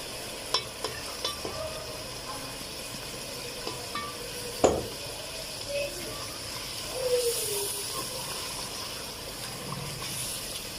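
Chicken pulao masala with curd sizzles and fries in a pot, a soft continuous crackle broken by occasional spoon stirs and scrapes against the pot, fairly quiet overall.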